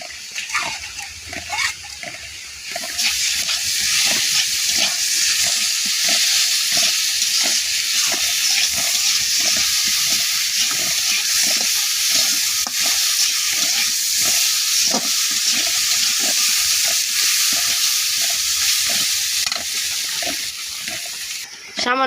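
Ground onion, cumin and dried red chilli pastes frying in a pan, starting quieter then swelling into a loud, steady sizzle with rhythmic stirring scrapes and steamy hissing throughout.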